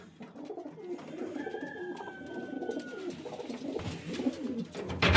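Domestic pigeons coo close by in a loft, soft repeated throaty coos layered with wing shuffles and a thin chirp, no talk present.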